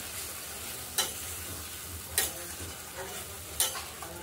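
Pointed gourd curry being sautéed in a pan, a soft constant sizzle broken by four sharp scrapes of a spatula against the pan, spaced about a second apart, close up with no talk.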